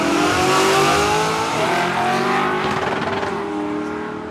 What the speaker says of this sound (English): rattled the tyres, had to get out of the throttle, have another go at it